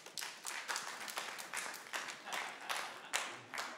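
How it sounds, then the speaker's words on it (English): Comedy club audience clapping, a thin scattered round of claps from a small group, uneven and fairly faint, with no talk over it. "let me feel you clap"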